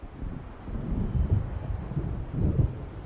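Low rumbling thunder and gusting wind of an approaching storm by the water in the Alan Wake video game, a deep continuous roll swelling in two heavier surges.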